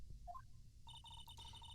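A phone in the Phoenix Wright video game, after redial: a few rising dial tones, then a fast electronic ringtone that trills repeatedly, fairly faint and alone.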